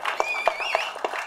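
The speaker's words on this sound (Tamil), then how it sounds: "ஒரு கைத்தட்ட வேண்டாமா அதுக்கு?" Scattered audience clapping at an album song launch, a handful of sharp claps in a loose rhythm, fairly close, over a faint lingering voice.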